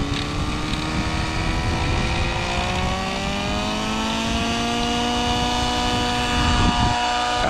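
A SAB Kraken 580 nitro RC helicopter engine runs close by on grass. Its tones climb slowly as the rotor spools up to speed, a loud, constant whine and buzz with no talking.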